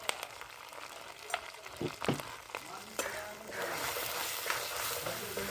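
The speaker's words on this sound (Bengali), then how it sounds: "আমি এই মশলাগুলো একটু ভালো করে কষে নেবো" Spices with ginger paste, green chilli, salt, turmeric and red chilli powder fry in a pan while being stirred, giving a steady sizzle with scraping clinks from the spoon, close by and without talk.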